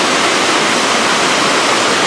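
River water flowing below Shirahige Falls in Biei, Hokkaido, a loud, dense, continuous roar of rushing water close by, unbroken and steady for the whole stretch.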